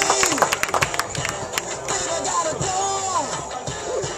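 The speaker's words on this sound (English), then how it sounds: "Let's give Austin Guzzon a round of applause." A crowd at a high school baseball senior appreciation day claps for a senior player, sharp scattered claps at first, then thinner applause with cheering, under an announcer's talk.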